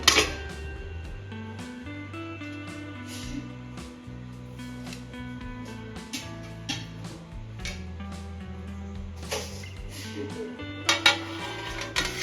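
A metal plate is set inside a hot covered kadhai for baking chicken buns, producing a series of close, ringing metallic clanks and scrapes and a louder clatter near the end, over a steady tonal background.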